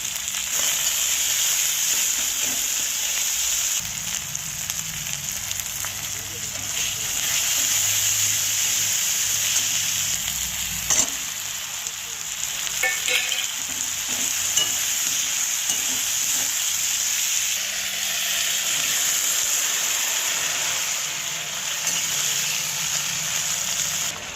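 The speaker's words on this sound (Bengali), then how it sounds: "টমেটোটা দিয়ে দিলাম, মশলার সাথে ভালো করে কষিয়ে নেব" Tomato with turmeric, salt and spices sautés in a pan, giving a continuous close sizzle with occasional stirring scrapes, steady throughout.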